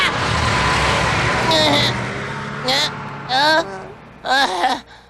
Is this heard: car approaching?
yes